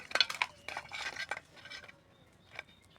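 A fish head mixed by hand with turmeric, salt and mustard oil in a metal bowl gives quiet clinks, taps and light rubbing scrapes in short irregular bursts that fade toward the end.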